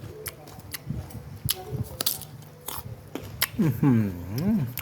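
Crisp bites and chewing on a large unripe, raw mango, with several crunchy snaps followed by close mouth sounds and a short voiced murmur toward the end.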